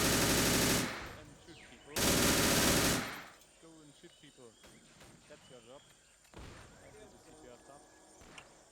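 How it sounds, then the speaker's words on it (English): Video game firefight with loud machine gun bursts at the start, two dense sustained volleys of automatic fire followed by scattered shots, clicks and distant reports under a quieter background. "we're being engaged by the MG on the right"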